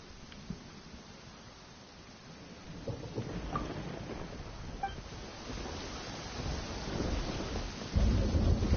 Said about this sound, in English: It's raining and thundering.